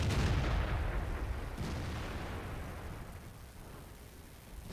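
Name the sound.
tank gun firing at an E4 in a tank video game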